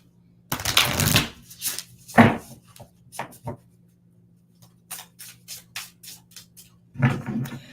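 Lenormand cards shuffled by hand for a romance tarot reading, giving bursts of riffling and slapping at the start and end with quieter card flicks and taps in between, set against a low steady hum.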